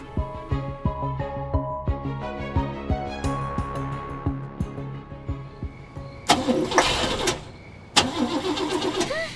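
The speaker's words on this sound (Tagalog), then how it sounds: "Tumirik pa ang sasakyan." In a radio drama, a car engine cranks with a steady run of rhythmic starter pulses that sputter and fail to catch, followed by louder bursts of noise near the end.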